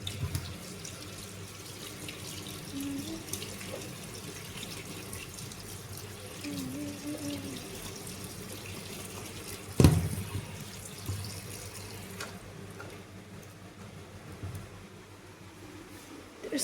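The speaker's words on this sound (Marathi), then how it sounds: "तर धुवून घेते आधी छान स्वच्छ पाण्याने" Jamun fruit rinsed under running tap water in a sink, a steady splashing stream with a sharp louder gush midway, close by and continuous, with a few quiet words spoken.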